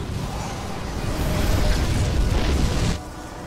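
A main objective is destroyed in StarCraft II co-op play, giving a broad, rumbling explosion that swells for a few seconds and then cuts off abruptly into quieter background.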